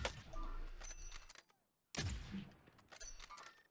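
Gunfire in the Zombie Royale video game: dense bursts of rapid shots, briefly cut to silence, then resuming loud and close, with faint voices in the background.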